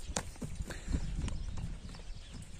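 Horse hooves clip-clop at an outdoor horse market, several irregular close hoof strikes over a busy background murmur.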